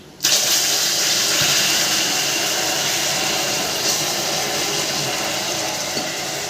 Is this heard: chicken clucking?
no